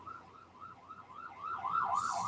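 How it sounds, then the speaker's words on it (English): A wailing emergency siren rises and falls in quick repeated sweeps, growing louder as it approaches. "Sorry, give me a second with sirens."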